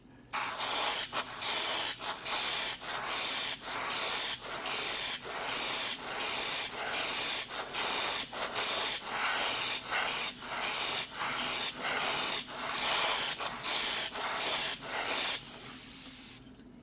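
Airbrush or spray paint hissing onto test spoons for a Gundam model kit, in about eighteen short regular bursts of roughly half a second each, evenly spaced and fairly close, with no talking.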